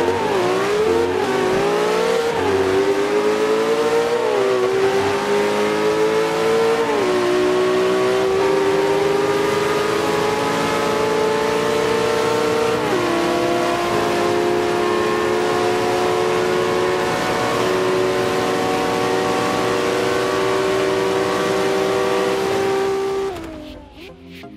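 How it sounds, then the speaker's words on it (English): A 2013 Ferrari LaFerrari and a 2011 Koenigsegg Agera racing a full-mile drag in Forza 5, engines roaring loud and continuous, pitch climbing through repeated gear shifts before cutting off at the end. "On the left you will hear and see the 2013 Ferrari LaFerrari, and on the right you will hear and see the 2011 Koenigsegg Agera."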